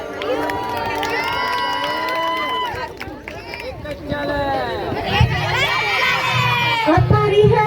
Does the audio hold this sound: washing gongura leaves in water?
no